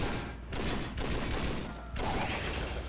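Bursts of gunfire in the video game Red Steel, rapid overlapping shots in short volleys over a steady noisy background, moderately loud with no voices.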